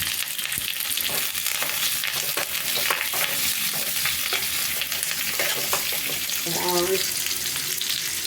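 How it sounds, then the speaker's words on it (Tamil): Onion, green chili and curry leaves sauté in hot oil in a pan, giving a loud, steady sizzle with occasional stirring scrapes throughout. "கருவேப்பிலை போட்டு நல்லா வதக்கிக்கலாம்."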